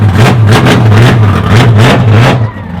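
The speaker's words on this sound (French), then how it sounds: "Ça vaut pour être un char de drift." A drift car's engine revs hard in repeated surges at a drifting event, loud and close, rising and falling in rhythmic bursts before easing off at the end.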